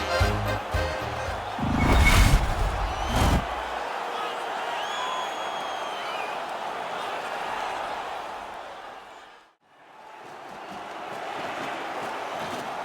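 A distant crowd in an NHL 22 hockey video game roars and murmurs continuously in a stadium, a broad swell of cheering that dips briefly before rising again.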